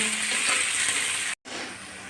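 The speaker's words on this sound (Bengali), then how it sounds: "পেঁয়াজটা একটু ভাজি ভাজি করে নেব" Finely chopped onions frying in a pan for a taro-leaf ghonto, a loud, steady sizzling hiss that cuts out briefly for a moment before resuming.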